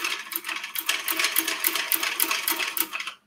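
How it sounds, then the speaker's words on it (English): A sewing machine backstitches a bag seam in a quick, steady run of rhythmic needle stitches, close and alone, stopping abruptly at the end. "I am going to backstitch because this is going to be hidden."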